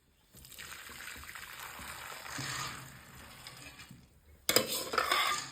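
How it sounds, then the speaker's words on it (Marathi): Boiled sorghum grains and water pour and slosh into a sieve, a steady draining rush, followed by a clattering metal scrape near the end. "दहा मिनिटं ज्वारीला उकळून घेतलेले आता आपण ह्याला चाळणीत काढून घेणार आहे"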